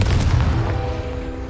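A Confringo blasting spell in a video game goes off as a single loud, deep explosive boom that rumbles and fades over about a second and a half.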